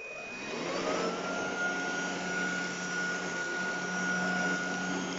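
Ultenic U12 Vesla cordless stick vacuum running steadily indoors while picking up cat litter near a front door, a continuous whirring motor hum with a high whine, close and fairly loud, no talking.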